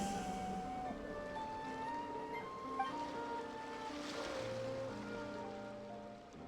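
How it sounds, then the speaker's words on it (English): Gentle ocean waves wash continuously in a video game, a soft steady surf under layered sustained music tones, with no talking. "Go to where you can hear the sound of the waves."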